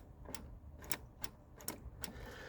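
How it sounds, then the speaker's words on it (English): Kickdown micro switch on a Jaguar XJS V12 accelerator pedal, a series of about six sharp small clicks in an uneven rhythm, close and quiet against a faint background hiss. "That click is the micro switch clicking."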